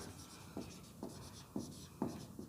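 Chalk or a marker on a board, writing in short strokes: about five quick scratchy taps spaced roughly half a second apart, faint and close in a quiet room.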